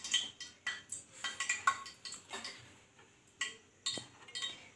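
Spoon clinking and scraping in a bowl while ginger paste and chopped garlic are mixed for veg Manchurian: a quick run of rhythmic light taps and clinks, then a few sparser strokes, close and fairly quiet.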